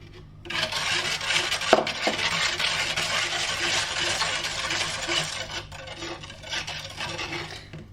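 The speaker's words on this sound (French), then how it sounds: "On va mélanger notre bicarbonate de soude." Baking soda is stirred for homemade liquid laundry detergent, a steady close scraping and rubbing in a container for several seconds with a few brief knocks, no talking.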